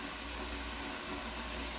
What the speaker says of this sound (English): I'm just gonna run some cold water